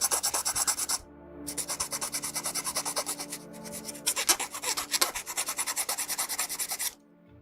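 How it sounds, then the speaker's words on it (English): A file rasps rhythmically across a plastic part from a vintage 1/60 Bandai Patlabor model kit, with rapid, regular close strokes in two long bursts separated by brief pauses. "you're gonna have to do a lot of filing to kind of get that."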